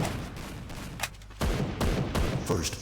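Gunfire in a Free Fire–style shooter match ending in a headshot kill: sharp shots and bursts come in clusters after a quieter opening, fairly loud, with no talk over them.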